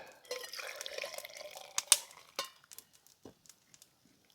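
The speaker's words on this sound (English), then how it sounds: "I can pour the hot tea into my mug" Hot tea poured into a mug outdoors in the woods: a short, soft pour that gives way to scattered drips trailing off into quiet.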